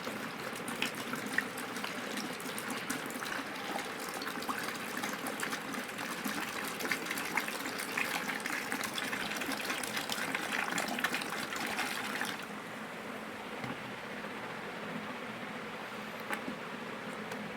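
Water is poured steadily into a bird deworming medicine mix, a continuous splashing gush that runs loud for about twelve seconds and then drops to a quieter trickle.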